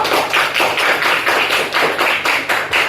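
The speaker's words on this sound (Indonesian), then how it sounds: "Oke, kasih aplaus dulu." Group applause in a classroom guidance session, a dense, steady wash of clapping hands with a regular pulsing swell throughout, loud and close.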